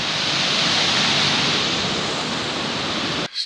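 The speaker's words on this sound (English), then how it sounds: "Scenic little creek." A small creek on a mountain trail in the Mt Baker Wilderness rushes over rocks in a steady, close, full hiss of flowing water that stops abruptly at the end, with no talk.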